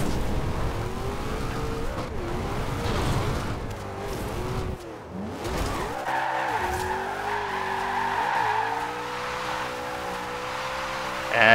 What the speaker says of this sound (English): And as you can tell, it just shreds tires like crazy